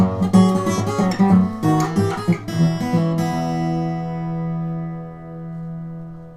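Fingerpicked Mississippi blues guitar phrase, a steady bass line with small treble notes added on top, playing clearly and alone before the last chord rings out and slowly fades.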